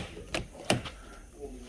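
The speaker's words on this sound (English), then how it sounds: "Try to open up the door from the outside and you really got to struggle with it." Two sharp, brief clunks of a sticking door's handle being pulled hard from outside as the door resists opening, close by against a quiet room.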